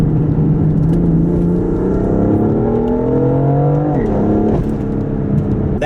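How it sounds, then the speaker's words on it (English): A BMW F80 M3 accelerating hard in second gear, its engine roaring loud and close with a steadily rising pitch, then a quick gear change and fresh climb near the end, with no voices. "dropping this thing into second gear and it just takes off"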